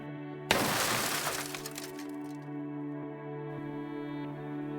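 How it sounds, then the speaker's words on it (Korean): A sudden loud crash of smashing and breaking erupts, with shattering debris rattling for a couple of seconds before fading into a steady hum. "금속이 날카롭게 찢어지는 소리, 그리고 차가 어디 들이받아 박살나는 것처럼 보이는 굉음"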